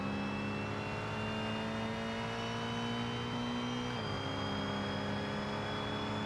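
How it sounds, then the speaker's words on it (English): A racecar's turbocharged engine in the driving game BeamNG gives a steady drone with a whistling turbo whine that dips briefly and then carries on alone. "Yeah, the sound of the turbocharger."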